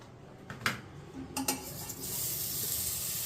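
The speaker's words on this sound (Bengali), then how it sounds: "আমি অল্প বাটার দিয়ে মাংসগুলো হালকা করে আমি একটু ভেজে নেব" Chicken pieces sizzle in a little butter in a kadai over a low gas flame, a steady close frying hiss that grows fuller toward the end, with a few clinks from the pan in the first half.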